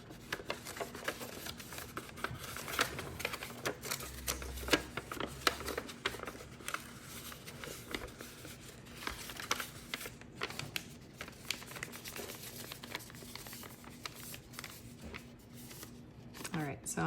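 Paper is folded and creased for an origami Christmas tree, with soft rustles and crinkles that come and go irregularly at low volume beneath steady talking.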